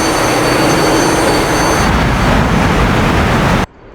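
Loud continuous roar of an F-15EX jet engine at takeoff power in the DCS flight simulator, a dense steady rumble with faint high tones that cuts off abruptly near the end, leaving a quieter hiss.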